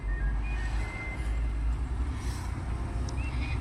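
A vehicle rounds a corner on the Karanji ghat road, its engine a steady, close low rumble with road noise running throughout.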